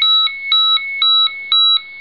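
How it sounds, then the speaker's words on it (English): A handheld marine VHF radio sounds a distress call alarm, a loud two-tone electronic beeping that alternates in a steady rhythm about four times a second. "And our handheld radio picks up the call."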